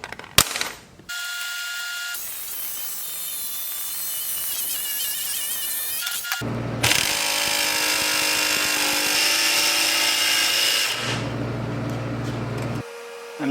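A power tool cuts out a metal hook piece for a Gobi roof ladder on a 4Runner, with two long, loud, steady stretches of harsh grinding separated by brief pauses and sharp starts.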